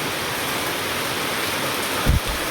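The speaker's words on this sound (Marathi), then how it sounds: "पाऊस पण खूप आहे इकडे" Heavy rain pours in a dense, continuous hiss, with one brief dull thump partway through and no voices.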